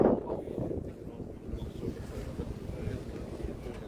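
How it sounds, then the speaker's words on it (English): Steady wind rushes over open water during an evening sailboat race, a broad continuous roar with buffeting gusts against the microphone, loudest at the start and then settling into a sustained hiss. "It's the wind"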